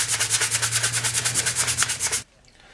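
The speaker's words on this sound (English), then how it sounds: "I'm just going to take some dry sandpaper" Dry sandpaper rubbed over a 3D printed Red Hood helmet in quick, even back-and-forth strokes, loud and close, stopping abruptly near the end.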